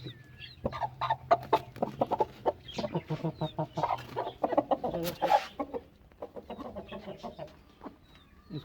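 A hen being lifted near pigeons lets out a rapid series of close, insistent clucks and squawks, with soft background noise underneath.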